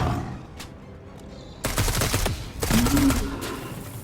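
Bursts of automatic gunfire in the video game Dysterra, aimed at a shielded pylon, come in two loud clusters after a quieter opening, with a low roaring tone under the second burst.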